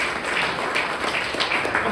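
Audience applauding at a business presentation, a steady wash of many hands clapping at moderate volume throughout, with no distinct voices above it.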